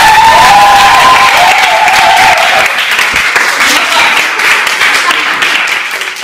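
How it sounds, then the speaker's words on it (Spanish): Loud applause from a crowd fills the room, with voices over the start and clapping continuing steadily throughout. "un aplauso para ella también, por favor"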